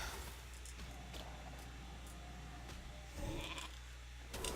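A sheep bleat from a polymorph spell in World of Warcraft rises faintly over a steady game backdrop, a short wavering call near the end amid low ambient hum.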